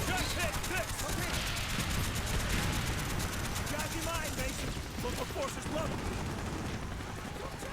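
A mounted machine gun fires in sustained rapid bursts in the Call of Duty Black Ops video game, a dense, continuous rattle of gunfire with a player talking over it.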